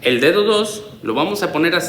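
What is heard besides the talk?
No distinct noise like a dog, phone or traffic.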